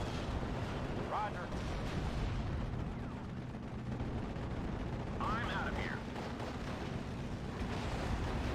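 Artillery and gunfire in the WWII strategy game Steel Division: Normandy 44, on the Omaha map. A dense, continuous battle din with steady rumbling and a few sharper bursts standing out.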